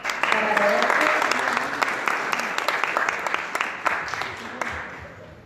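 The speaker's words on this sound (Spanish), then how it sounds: "Así que un fuerte aplauso para Roberto." An audience at an architecture school presentation applauds a speaker, steady clapping from many hands with a few sharp nearby claps and faint voices underneath, tapering off toward the end.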